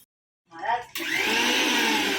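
A kitchen mixer grinder switches on with a brief uneven start, then settles into a loud, steady whirring hum that runs without a break.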